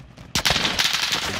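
Video game gunfire from Call of Duty: Modern Warfare breaks out suddenly after a quiet moment as a loud, rapid automatic burst. The shots are close and continue to the end.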